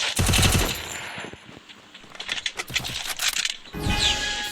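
Rapid automatic gunfire from a shooting video game, including an MP45-style weapon, rattles in loud dense bursts with short pauses between volleys and a final sustained burst, with no talking.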